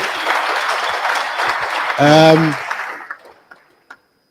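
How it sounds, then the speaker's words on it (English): Applause from the audience at a JavaScript meetup after a speaker's talk, a round of clapping that fades out with a few last claps, and a voice briefly sounds midway through. "Let's give him a massive round of applause"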